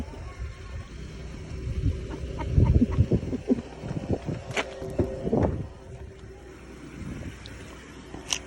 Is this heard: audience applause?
no